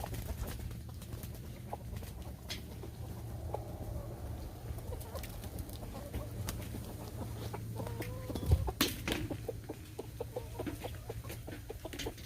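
Chickens in a backyard chicken yard cluck and call intermittently over a steady low background hum, with one sharper squawk near the end; no talking.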